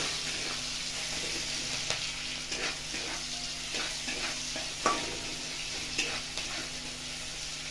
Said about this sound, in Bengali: দিয়ে দেবো কিছু কাঁচা লঙ্কা আর কিছু কুচনো পেঁয়াজটাকে একটু লাল করে ভেজে